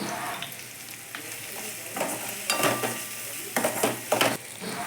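Okra with sambar powder sautéing on a low flame for vendakkai puli kuzhambu, a soft steady sizzle broken by several louder scrapes and clinks of a spoon against the pan.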